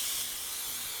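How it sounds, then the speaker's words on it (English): A heavier hairspray sprays onto vintage wet-set curls, a close, steady hiss that runs unbroken for about a second. "on top of the curls and then lift them and spray under the curls."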